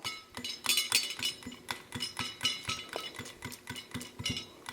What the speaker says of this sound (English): And they just chop, so I'm chopping two pieces with each snip.